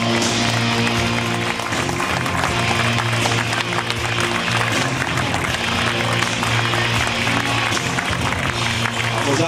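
Steady, dense applause from an outdoor crowd at a beach volleyball awards ceremony, continuous and loud throughout with a low rumble underneath and no break in the clapping.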